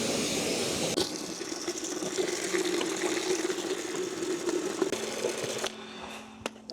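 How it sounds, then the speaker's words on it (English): A pressure washer rinses gloss black car wheels, a steady broadband hiss of spraying water running loud and continuous for several seconds, then dropping to a lighter spray with a faint pump hum near the end; no talking. "With my pressure washer, I can switch side, change angle, make sure I rinse everywhere in all the nooks and crannies."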